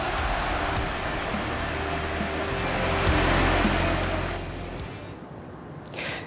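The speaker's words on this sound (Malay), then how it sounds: "Gelagat anjing peliharaan meluncur air di California" Ocean surf rolling in at a California beach where a pet dog rides the waves, a steady roaring wash that swells midway then fades, with no voices.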